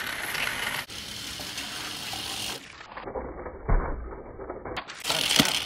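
Toy pull-back cars, one a Chevy Bolt model, race with a buzzing, whirring gear-and-ratchet drone that shifts in pitch as they roll, ending with a small clatter.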